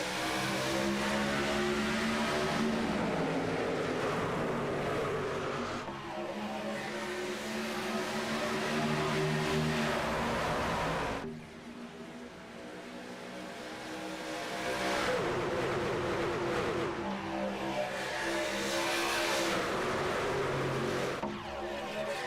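Race cars roaring back up to speed on a Talladega restart in a racing video game, a loud sustained pack of engines with rising and falling pitch and several swelling passes, with no talking.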